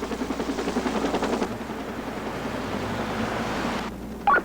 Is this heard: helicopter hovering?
yes